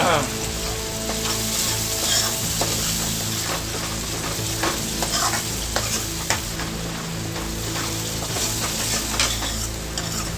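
Chole masala frying in a pan, with a dense, steady sizzle and a constant crackle throughout. Scattered spoon stirs and scrapes sound close by.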